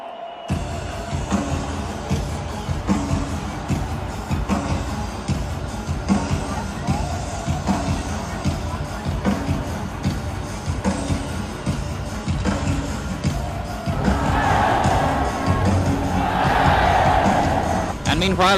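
A packed stadium crowd at the Berlin Olympics opening ceremony, a steady roar of cheering and babble that swells louder near the end, with a faint narrating voice underneath.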